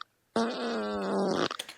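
A person's recorded fart, played back as a compressed MP3 on an old 2006 Zune player. It comes as one loud, sustained buzzing blast of about a second, then a few short sputters trail off.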